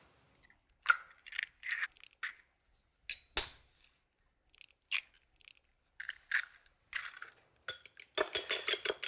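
A whisk beats eggs in a bowl for vegetable patties, giving bursts of quick metallic clinks and scrapes in irregular runs, close and fairly quiet, ending in a faster steady rhythm.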